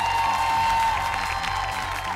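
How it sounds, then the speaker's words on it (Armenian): A gala show audience applauds the cast of the television series Vorogayt, with steady clapping and crowd noise over music. "ձեր ծափահարությունները նրանց"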